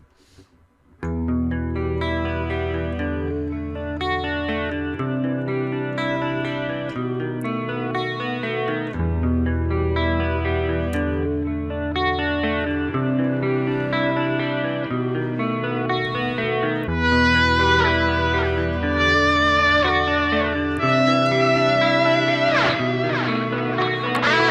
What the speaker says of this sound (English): So let me just lay down a loop real quick and clean.